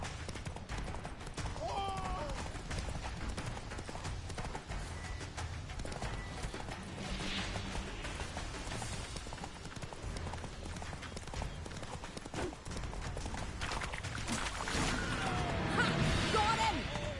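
Roach the horse gallops in The Witcher 3, a steady rapid clip-clop of hooves that runs throughout with occasional whooshes and impacts, while a voice speaks briefly.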